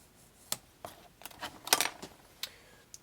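A pencil scratches lines onto a wooden popsicle stick against a straight edge, a series of short, quiet, dry scraping strokes in an uneven rhythm, close up with no talking.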